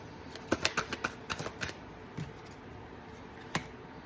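Tarot cards are shuffled quietly and close by, with a quick run of crisp riffling flicks, then a few scattered taps and one last sharp snap.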